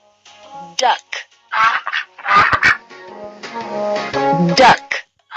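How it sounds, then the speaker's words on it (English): Duck quacking in a busy run of close, loud, nasal calls, several quacks in quick succession that rise and fall in clusters. "Duck."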